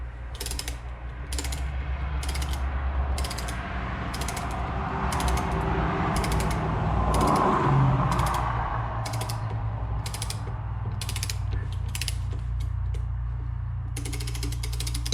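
A ratchet tightens the 17mm Allen cap on a KTM/Husqvarna 4CS fork, giving a steady run of sharp, close clicks that repeats evenly across the whole stretch with no talking.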